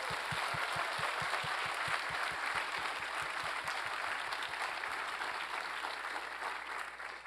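An audience applauds at a NorthSec 2025 closing ceremony, with steady, dense clapping that holds for several seconds before tapering slightly at the end.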